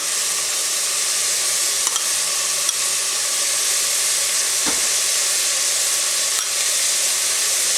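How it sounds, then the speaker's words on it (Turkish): Tomato paste sizzles loudly in a pan with browned meat and onions for an okra stew, an even, dense frying hiss with a few faint utensil clicks and no talking. "Ve salçamızı da kavuruyoruz."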